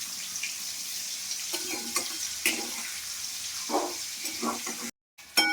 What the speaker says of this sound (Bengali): ফুলকপিগুলো লাল লাল করে ভাজা হয়ে গেছে।